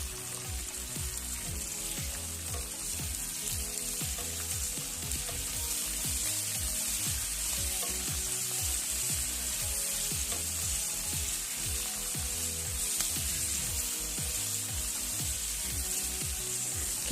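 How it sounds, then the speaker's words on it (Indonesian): Kale and bird's-eye chili peppers frying in a pan, a steady loud sizzle with faint stirring scrapes running continuously throughout, no voices. "Kita goreng sampai benar-benar layu."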